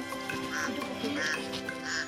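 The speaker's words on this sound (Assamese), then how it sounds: "হাঁহ এটা যে অকলে" A single duck quacks close by in a farmyard setting, giving several nasal, raspy calls in quick succession over a quiet background.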